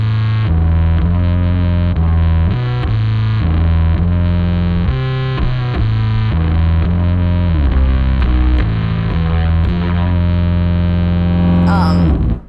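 Electric bass run through an octave fuzz with sub and upper-octave voices into an EarthQuaker Devices Afterneath reverb, playing a loud, distorted, dark synth-like riff of sustained notes with a shimmering reverb tail at the end.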